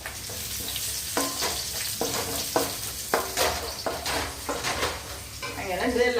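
Puri frying on a stove gives off a continuous sizzle with a regular series of sharp clinks and scrapes from the pan and utensil, close and fairly loud.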